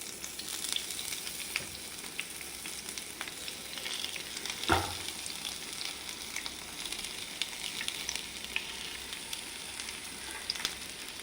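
Sardines sizzling in oil in a pan on a bed of curry leaves, a steady soft crackle and hiss throughout with one sharper clatter midway, no talking.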